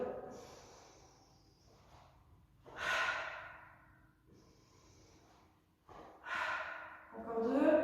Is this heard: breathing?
yes